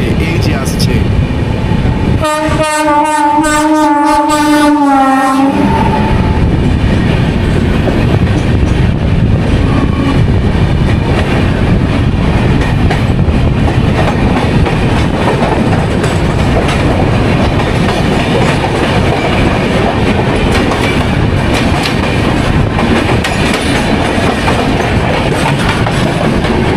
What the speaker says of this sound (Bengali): এবার আমাদের সঙ্গে দেখা হবে 11447 জব্বলপুর হাওড়া শক্তিপুঞ্জ এক্সপ্রেসের সঙ্গে। এই যে আসছে।